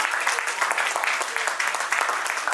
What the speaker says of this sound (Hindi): प्लीज बहुत तेज तालियां बजाइए इनकी अभिनंदन में।